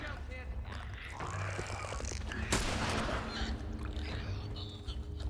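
Gunfire from The Last of Us game crackles near and loud in several bursts, with one heavy blast near the middle, mixed with grunts and a steady low rumble.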